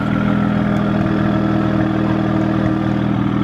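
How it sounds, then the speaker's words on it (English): A BMW N54 engine with a BMW Performance exhaust idles steadily at about 600 rpm with a deep, even rumble and a faint rhythmic pulse, close and continuous, with no talk. "This is just normal idle"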